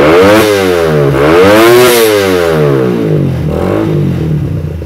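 A ported Suzuki Satria FU motorcycle with its camshaft decompressor removed revs loud and close, climbing toward 13,000 RPM, dropping, then surging again before settling back.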